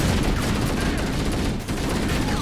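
Dense, continuous gunfire from a co-op Halo: Combat Evolved campaign firefight, loud and sustained across the whole moment with a brief dip near the end.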